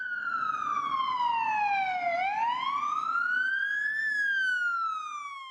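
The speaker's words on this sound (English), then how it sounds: "Can you put your sirens on too for this one?" A loud police siren wails continuously, its pitch sweeping down slowly and then climbing back up, close by with no voices over it.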